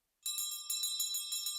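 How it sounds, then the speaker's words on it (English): Brass bell at Children's Hospital Los Angeles, rung for a child who has finished cancer treatment: a rapid run of about eight bright, ringing strikes following a moment of silence, clear and close. "this bell rings for every child who triumphs over cancer"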